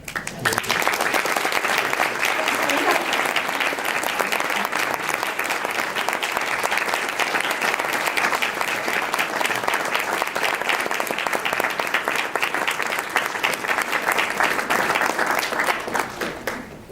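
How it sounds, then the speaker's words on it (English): Sustained audience applause at the Crystal Apple Awards 2014 teachers' ceremony, dense and steady clapping filling the hall for about seventeen seconds before tapering at the end. "give them a round of applause that they so richly deserve"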